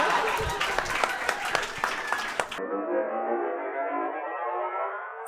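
An audience bursts into a short round of lively clapping at a live show, sharp claps for a couple of seconds before giving way to a thinner, muffled crowd sound.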